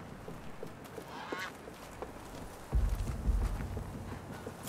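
Goose honks from the video game Horizon Forbidden West sound in a quick nasal flurry, followed by heavier thumping footsteps or movement, moderately close with no talking.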